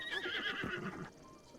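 Epona, the horse in a Zelda video game, gives a short whinny, a bright quavering neigh lasting about a second, fairly soft and close, followed by brief quiet.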